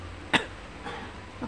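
A young child at home gives one short, sharp cough, followed by a fainter throaty burst a moment later, with no talking.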